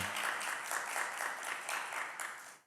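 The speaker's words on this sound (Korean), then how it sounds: "우리 뜨거운 박수 한번 올릴까요?" Church congregation applauding at a dawn worship service, an even, steady clapping of many hands lasting a couple of seconds and then cutting off.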